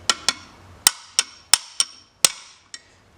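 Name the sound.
hammer and drift seating a turbo snap ring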